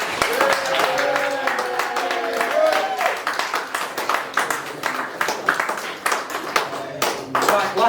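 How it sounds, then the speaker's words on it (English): A presentation-night audience claps and cheers for Nathan, sharp individual handclaps forming a rhythmic, fairly close round of applause with voices and cheering mixed in. "Can we have, please, a big cheer for Nathan?"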